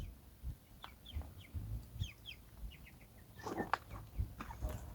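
Scattered soft clucks and short chirps from chickens, some near and some farther off, over a low background rumble.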